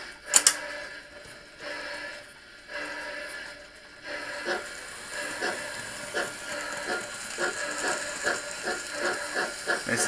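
A US light steam sound card in an N gauge model train powers up, giving a soft hiss followed by a steady, faint mechanical chuffing beat that grows more regular and a little louder.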